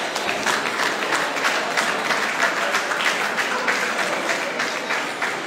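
A congregation at an ordination ceremony applauding to acclaim the Lord, a dense, steady round of clapping from many hands sustained throughout, close and lively.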